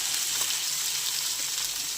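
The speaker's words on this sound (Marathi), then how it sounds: "आता आपण थोडा शेवग्याच्या शेंगा फ्राय केल्या" Drumstick pods (moringa) fry with turmeric in a hot pan, giving a steady, close sizzle that runs evenly throughout without any voices.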